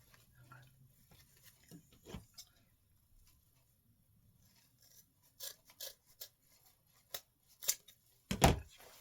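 Sharp clicky snips of scissors cutting, several quick cuts in a loose cluster toward the end, fairly close, with faint movement between.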